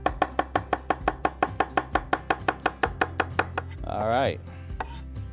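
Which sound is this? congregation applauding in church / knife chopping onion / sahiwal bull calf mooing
knife chopping onion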